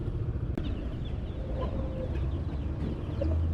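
Small broiler chicks in a pet shop in Florida Blanca, Pampanga, give off a steady busy cheeping and clucking. The sound is close and continuous over a noisy indoor background.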